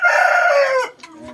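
A Japanese shamo stag rooster crows once, loud and close, in a single drawn-out call lasting just under a second, followed by a faint tail of quieter sounds.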